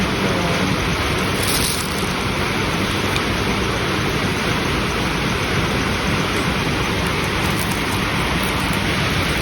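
Steady, dense rain hiss filling the whole clip, loud and close, with no breaks or talking over it.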